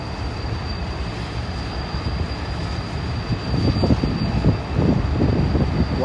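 A train rolling past in downtown Pittsburgh, a steady loud rumble of wheels and cars with a rising rhythmic clatter toward the end, no voices.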